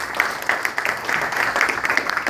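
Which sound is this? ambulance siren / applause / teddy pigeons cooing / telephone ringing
applause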